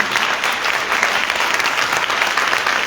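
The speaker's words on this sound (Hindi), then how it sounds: "जोरदार ताली, जोरदार जोरदार।" A church congregation claps loudly and continuously during a sermon, a dense, even wash of applause with no speech over it.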